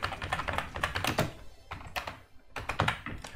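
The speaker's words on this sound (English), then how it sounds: "now we're going to type in our GPU's name" Fingers type on a computer keyboard, a close run of quick, uneven clicking keystrokes with brief pauses between bursts.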